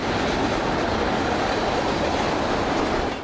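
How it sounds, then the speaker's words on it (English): A loud, continuous roar and rumble of a freight train of tank cars passing close by, a dense steady wash of rolling wheel noise throughout. "waiting for a seemingly endless line of tank cars to pass"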